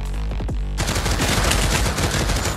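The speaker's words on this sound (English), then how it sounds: "I shot his head off!" Gunfire in the video game Pavlov Shack: a couple of sharp shots followed by a dense, loud, sustained burst of rapid automatic fire, close and continuous.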